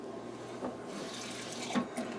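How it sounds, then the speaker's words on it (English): Tap water runs into a kitchen sink while a bowl that held egg is rinsed. Quiet, steady splashing with a few small clinks and sloshes of the bowl under the stream. "rinse it out a bit because it had that ucky egg in there"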